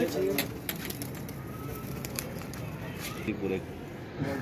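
Pigeons coo softly in the background, with scattered rustling, clicks and brief voices nearby.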